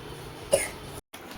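A young girl gives one short, sharp cough at close range, a brief burst against steady indoor background noise.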